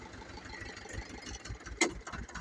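Ukrainian mini tractor engine chugging steadily in a low gear while it pulls on its own during field work, a regular low thumping pulse throughout with a brief sharp clank near the end.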